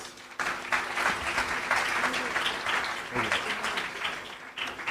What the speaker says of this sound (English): Let's help them with a nice round of applause.